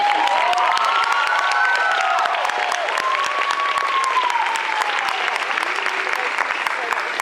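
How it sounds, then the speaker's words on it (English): At a cosplay championship in Sydney, a large audience applauds and cheers loudly, a continuous roar of clapping with whoops and shouts riding over it, while a voice carries on faintly beneath. "Can we please have a big round of applause for the"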